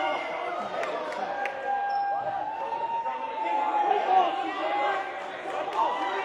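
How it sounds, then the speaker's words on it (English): Excited crowd of basketball fans at a boys' high school game, American Leadership Academy Guardians versus Our Lady of the Sun Academy, cheering and chattering steadily throughout in a gym, with a whistle-like tone and general hubbub. "And the fans are going crazy as well."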